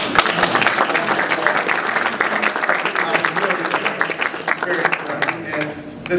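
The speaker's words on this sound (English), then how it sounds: "We never gave a round of applause for Patricia Gaughan." Audience applause at a reception, a loud burst of many hands clapping with sharp individual claps standing out, gradually thinning toward the end, with a little murmuring in the room.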